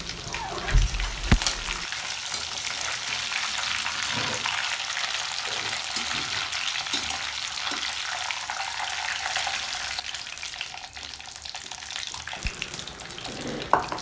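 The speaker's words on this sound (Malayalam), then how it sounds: "ചിക്കൻ പൊരിക്കുമ്പോൾ ചട്ടിയിലിട്ട തന്നെ നമ്മൾ ചട്ടം കൊണ്ട് ഇങ്ങനെ ഇളക്കുമ്പോഴാണ് ആ മസാലയൊക്കെ വെളിച്ചെണ്ണയിലുണ്ടായിങ്ങാണ്ട് ആ ചുവന്ന കളറായി ആയിണ്ട് വരല്" Chicken with masala and curry leaves frying in coconut oil in a pan, a steady close sizzle with occasional scrapes and knocks from stirring, no voices.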